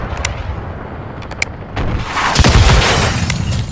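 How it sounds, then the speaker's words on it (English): A rocket launcher fires in Call of Duty MW3 on a Sport Yard Kill Confirmed match, a loud booming blast that swells and rumbles on after sharp earlier game clicks and shots, with no talk. "Shot that rocket launcher"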